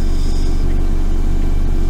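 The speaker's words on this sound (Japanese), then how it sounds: "いやでもそんな車の暖房の音くらいわかるでしょ" A car's heater blows inside the cabin at night, giving a steady broadband whirring hum over low engine rumble, loud and continuous throughout.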